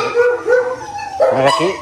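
A dog that has recently given birth gives short yelping barks and whimpers close by, with some background voices and noise around it.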